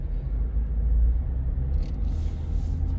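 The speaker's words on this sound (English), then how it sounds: "Turn the fan speed down so you can hear the truck." A 2024 Ford F-450 Super Duty Limited dually pickup idles with a low, steady engine rumble heard from inside the cab, continuous and moderately loud with no talking.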